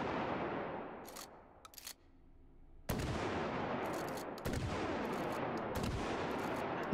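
Fireworks launched in the VR game Hot Dogs, Horseshoes & Hand Grenades crack and boom in loud, broad bursts with a short crackling tail, two big blasts following a quieter opening.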